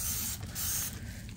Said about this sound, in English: I like to use the Dawn Power Wash, so it's really easy just to spray them.